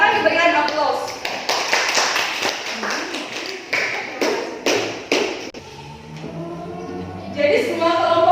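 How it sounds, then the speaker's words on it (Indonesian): Applause rings out in a school classroom for student fashion-design groups, a burst of scattered hand claps over several seconds, followed by someone talking. "Silakan diberikan aplaus."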